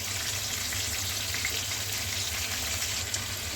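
Shrimp fry in hot oil in a pan, giving a steady, even sizzle that holds without a break and with no talking over it.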